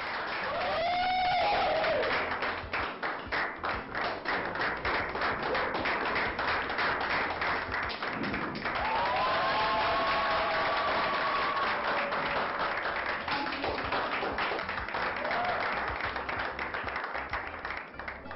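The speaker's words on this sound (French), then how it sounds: "S'il vous plaît, encore plus d'applaudissements pour notre gagnante." Audience applause for the winner of a beauty-queen style competition, steady dense clapping filling the whole stretch, with occasional tonal chirps over it and no clear talk.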